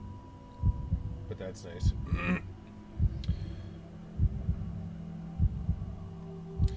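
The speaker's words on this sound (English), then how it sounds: "Can you hear that heartbeat?" Heartbeat sound effect in the arcade video game Circus Interstellar: a steady low double thump recurring about every second, under a faint hum and brief game tones, with someone talking briefly over it.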